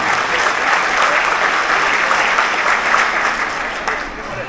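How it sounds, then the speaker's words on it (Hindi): Loud, close applause from a crowd at a political gathering welcoming a guest, dense continuous clapping that holds throughout and fades slightly at the end. "और एक बार तालियां देके नादिर भाई को स्वागत करता हूं।"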